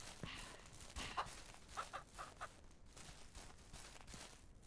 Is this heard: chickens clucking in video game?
yes